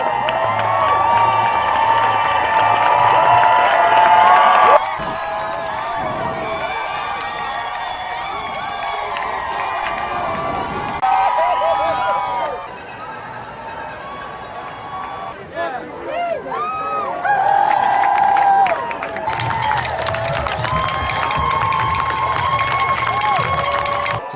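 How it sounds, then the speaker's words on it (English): Crowds gathered outside the White House cheer, whoop and shout in celebration, heard loud and dense in bursts, with stretches where voices of a broadcast cut in over the noise. "the crowds outside the White House yet gather and cheer with"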